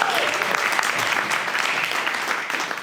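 A crowd at an offshore wind startup showdown gives a presenter sustained applause, dense clapping with a few louder hand claps and faint voices underneath.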